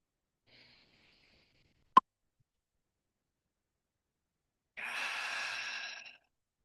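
A slow, soft exhale during a guided deep breathing exercise, one breathy release lasting over a second after near silence, preceded by a single sharp click.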